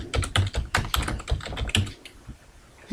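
Someone typing a macro name on a computer keyboard in quick, close bursts of clicky keystrokes, then a few scattered final taps and a pause.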